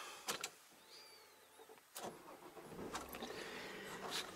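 A Volvo car engine cranks and turns over after a few sharp clicks, then settles into a steady idle with some rattling, heard up close.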